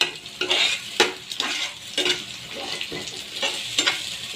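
An egg frying in oil in a pan, with a steady sizzle broken by scraping, stirring strokes of a utensil against the pan at an irregular rhythm, close and fairly loud with no talking.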